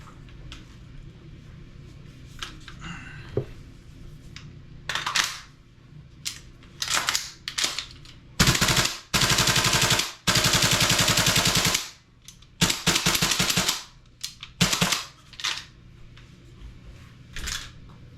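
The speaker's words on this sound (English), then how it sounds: "I'm going to shoot my gun, or shoot this mag through my gun a couple times to get the magazine colder" An airsoft gun fed by a Modify-Tech MWS gas magazine fires close up, first scattered single sharp cracks, then long rapid full-auto bursts around the middle, then more short bursts and singles.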